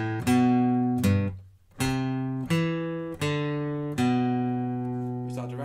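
Acoustic guitar runs the first and second phrases of a song riff in sequence, bright plucked notes ringing close and full with overlapping sustain in an unhurried rhythm, no voice present.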